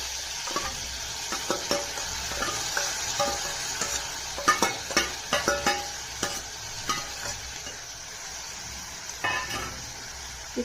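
Peeled avarekalu beans sizzle in a hot pan with tomato as a spoon stirs, giving steady frying hiss with repeated scraping and light clinks against the pan, close by.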